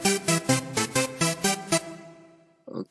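A synthwave arpeggio preset from LMMS's built-in instruments plays a rapid run of bright, evenly pulsed synth notes for about two seconds, then fades to silence before a short burst of another sound at the end.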